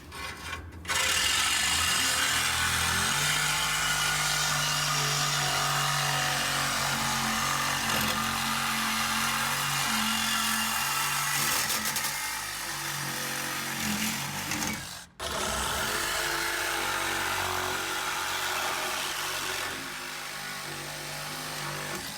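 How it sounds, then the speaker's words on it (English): A power cutting tool slices through the rusty exhaust under a burned 1965 Ford Mustang, a loud sustained grinding whine that runs almost continuously, cuts out briefly once, then resumes, close by with no talking. "We're just gonna cut off the exhaust because they're horrible under there."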